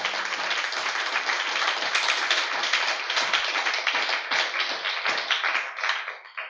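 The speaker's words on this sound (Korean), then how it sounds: "자, 박수로 주님께 영광 드립니다" A church congregation claps steadily together for several seconds during a sermon, dense and lively, before the applause thins out and fades at the end.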